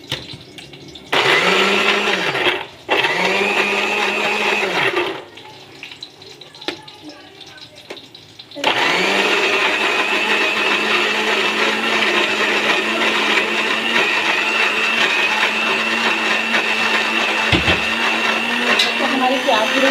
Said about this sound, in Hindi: मैं चलूँगी अदरक लहसुन पीसने की तरफ। तो जी ये मैं पीसूँगी।